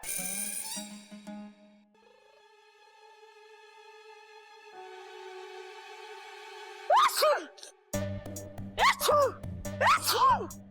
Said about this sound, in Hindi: अब छींकता ही जा रहा है